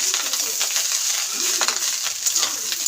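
Leftover cooked rice fries in a pan with salt, giving a steady bright sizzle with light scraping stir strokes throughout, close and continuous.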